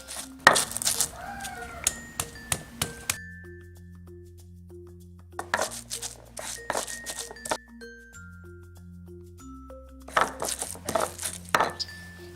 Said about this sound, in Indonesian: Ulek semua bumbu tersebut hingga halus.